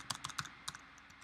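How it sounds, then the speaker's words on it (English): Quick, light keystrokes on a computer keyboard, a short run of clicks close by followed by a couple of sparse taps, with no speech. "I was talking while typing"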